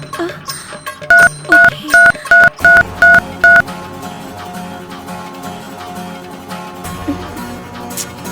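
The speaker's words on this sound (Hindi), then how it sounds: "अब मैं अभी उनको फोन करता हूँ" A quick run of seven evenly spaced keypad beeps as a phone number is dialed, clear and close over faint background noise.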